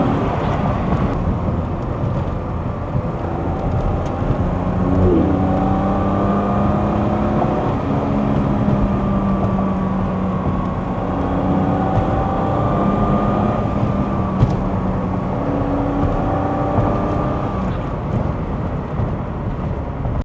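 An Alpina B6 BMW E30 engine is driven hard toward redline, heard from inside the car as a loud, continuous engine drone with rising and falling pitch sweeps over road and wind rumble.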